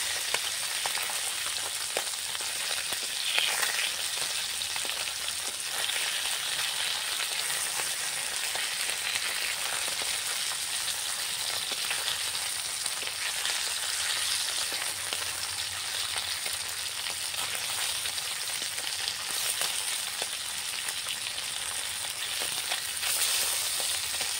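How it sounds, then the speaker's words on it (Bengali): Fish frying in a pan of oil, a batch of small whole fish being fried for a Bengali-style fish curry, with a steady, dense sizzle and crackle running continuously with no talking. "একটা পাত্রে বাকি ছিল, সেটিকেও ভেজে নেওয়া হচ্ছে"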